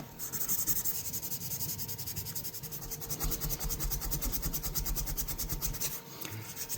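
A Schrade Copenhagen pocket knife is hand sanded with heavier-grit sandpaper in light up-and-down strokes. The steady rasping scrape repeats close and continuously, alone without talk.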